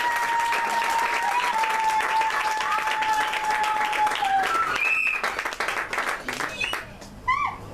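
Sustained applause from a church hall crowd at a wedding blessing, greeting the groom's family; dense steady clapping with cheers and voices mixed in, thinning toward the end.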